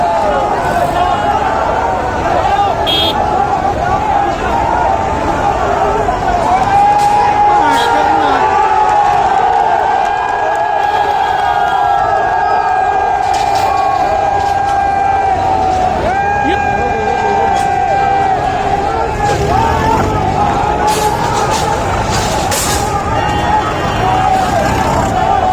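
A large crowd of protesting farmers at a Republic Day tractor rally makes a loud, continuous roar of shouting, cheering and whoops, with a reporter talking over the din throughout.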